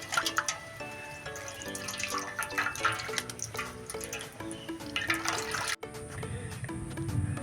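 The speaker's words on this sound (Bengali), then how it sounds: "তবে আমি এখানে ছানাটা জল দিয়ে ভালো করে ধুয়ে" Fresh chhana cheese curds are washed with water for mango sandesh, with splashing, trickling water and drips heard under background music.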